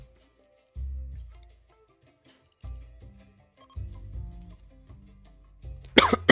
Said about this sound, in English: Just had a cough there.